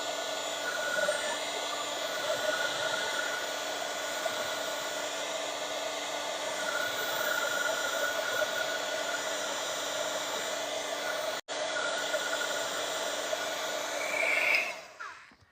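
A hair dryer blows a steady, loud, close whoosh over a handmade Christmas card, running without a break for about fourteen seconds before it winds down at the end.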